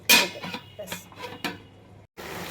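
A metal lid clanks onto a pot of simmering bottle gourd leaf curry with lentil dumplings: a sharp initial clatter followed by a few lighter taps and rattles, close and fairly loud, then a brief drop to silence.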